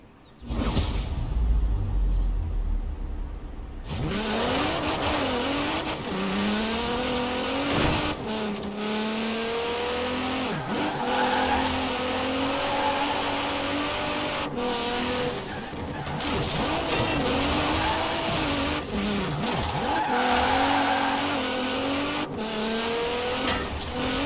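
A Nissan GT-R Black Edition races in Forza Horizon 4, its engine droning and revving with rising and falling pitch, tires squealing through turns, loud and continuous throughout with no talking.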